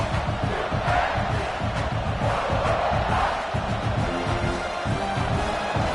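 A packed stadium crowd in the NCAA College Football 26 video game roars and chants loudly and continuously, swelling in rhythmic surges with no commentary over it.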